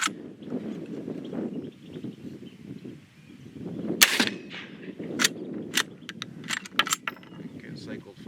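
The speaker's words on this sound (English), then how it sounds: "cycle the lever all the way down, back up, and we are ready for business" The lever of a Century Arms PW87 lever-action shotgun cycled down and back up, giving sharp metallic clacks and clicks after a quieter stretch of low rustling and handling noise.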